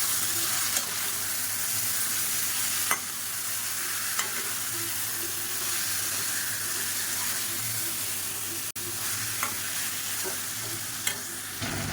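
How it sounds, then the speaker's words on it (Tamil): Marinated chicken sizzles and is stirred in a pan with browned onions for a chicken gravy, a steady close frying hiss with occasional scrapes and clinks of the spoon, no voices. "இப்போ இந்த ஸ்டேஜில் நம்ம ஊற வச்சுருந்த சிக்கனாக சேர்த்துக்கலாம். சேர்த்துட்டு நல்லா பரட்டி விட்டுக்கலாம்."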